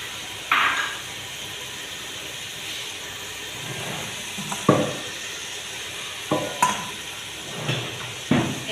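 Chopped flat beans go into a hot pan and fry with a steady sizzle, broken by several sharp scraping and stirring knocks from a utensil against the pan.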